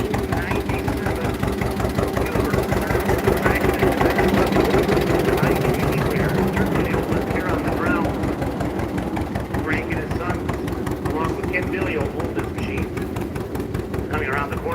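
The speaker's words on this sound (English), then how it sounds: "it's a 1921 Huber traction steam engine, 22 horsepower, Frank Holshoe and Sons" A 1921 Huber traction steam engine, 22 horsepower, chugs past in a parade with a fast, regular beat close by and loud, while an announcer talks over it throughout.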